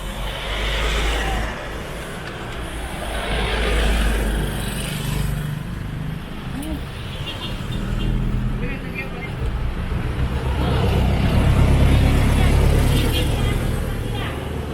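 Street traffic in Guadalupe, Cebu City, a near, steady roadside wash of passing cars and motorcycles, with engines swelling and fading as vehicles go by and a louder surge toward the end.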